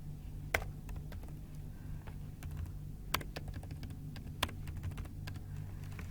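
Keys clatter on a computer keyboard in quick irregular bursts of soft clicks, with a few sharper taps, over a faint low hum.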